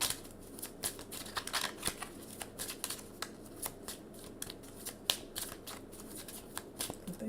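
Tarot cards being shuffled by hand, a rapid run of crisp riffling snaps and papery flutters, close and fairly loud with no voice over it.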